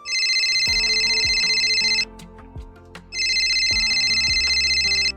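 A phone ringtone for an incoming call: a loud electronic melody of repeated high tones that plays for two seconds, pauses about a second, then repeats, alone without voices.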